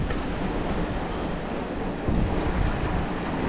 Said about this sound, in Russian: Вон ветер. Какой тут ветер.